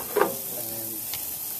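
Asparagus dressed with olive oil, lemon juice, lemon zest, salt, pepper and chopped garlic hits a hot grill, giving a brief loud sizzle burst that settles into a steady, fainter crackle, with no talking.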